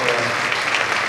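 Loud, close applause from a crowd at an educational cities congress, a dense, steady wash of clapping hands filling the room with no talking over it.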